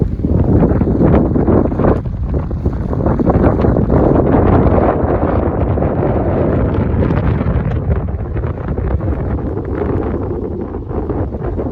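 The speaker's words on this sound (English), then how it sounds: "It's going to be very windy" Strong, steady wind roars across the microphone at a boat anchorage off Vieques, Puerto Rico, a loud continuous buffeting rumble with gusting surges and faint rigging or water noise beneath, no voices.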